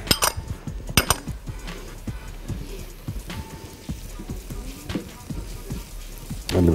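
Onion and minced garlic sizzle in olive oil in a pan for an artichoke, spinach and olive dish, a soft crackling hiss broken by repeated sharp clinks and taps of a utensil against the pan.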